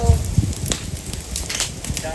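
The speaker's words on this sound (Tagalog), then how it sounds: "Yung mga kawayan, yung buko ng kawayan dyan guys, yung pumuputok-putok." Bamboo burns in a fire, crackling steadily with sharp pops from the bamboo nodes bursting. A voice speaks over the close, irregular snapping.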